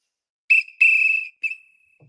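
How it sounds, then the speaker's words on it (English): Whistles are blown at a street celebration of the Philadelphia Eagles winning the Super Bowl, sounding as three shrill blasts: a short one, a longer sustained one, then a brief fading toot, clear and close. "Everybody was blowing the whistle."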